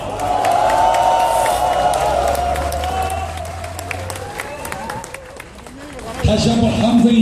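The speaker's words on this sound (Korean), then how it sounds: "다시 한번 함성이 약합니다." Crowd cheering and shouting at a campaign launch rally for a Korean election candidate, a loud sustained roar of many voices with scattered clapping, fading mid-way and then swelling again near the end.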